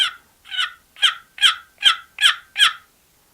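Wooden turkey box call worked in a steady cadence of seven sharp, loud yelps, each note clipped short rather than rolling, close and clear with no voices.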